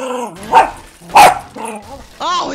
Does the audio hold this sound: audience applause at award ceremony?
no